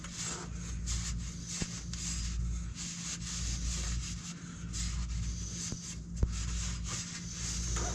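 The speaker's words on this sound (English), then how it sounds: "Make sure I got all the oil cleaned off the surface." A rag rubs and wipes oil off a loader transmission's mating surface, soft continuous scrubbing strokes close by with a couple of sharp clicks, fairly quiet and without talk.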